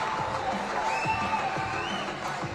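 A netball crowd at MSAC in Melbourne cheers and roars steadily through a Vipers versus NSW Phoenix match, a broad, sustained arena din with whoops and claps rising above it, with an announcer talking over it.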